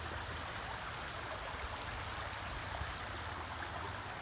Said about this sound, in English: I usually pause to look at the water and listen to its flow